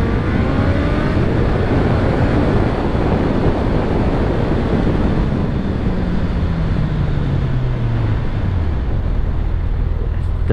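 A 2022 Suzuki Hayabusa motorcycle accelerating hard from 0 to 100 km/h on a slope, its engine note climbing steadily through the gears under heavy wind rush, loud and close.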